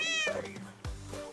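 A cat in Minecraft gives a couple of clear, close meows, one near the start and another short one later, over a soft background of music.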